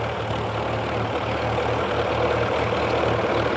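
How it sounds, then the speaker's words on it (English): A tractor engine idles and chugs steadily at moderate volume, a low throbbing drone with no voices over it. "He's revving the tractor up,"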